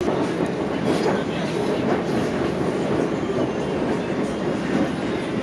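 Steady rumble and rattle of a metro train in motion, recorded from inside a carriage, with continuous wheel and track noise at an even level throughout.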